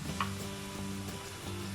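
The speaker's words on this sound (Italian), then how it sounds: "Mettiamo la carne a contatto con la nostra pentola, quindi spostiamo un poco le cipolle" Meat and onions browning in a pot for a Neapolitan Genovese, a steady low sizzle and stir of frying food running without pause, close and moderately quiet.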